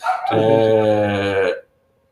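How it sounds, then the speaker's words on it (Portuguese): An excited female dog gives one loud, close, drawn-out vocal cry lasting over a second before cutting off into silence. "Minha cachorra tá atacada agora."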